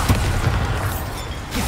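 Bombarda explosion spell cast in the video game Hogwarts Legacy: a dense, rumbling boom that fills the moment with sustained low roar and debris noise, loud and continuous with no voice.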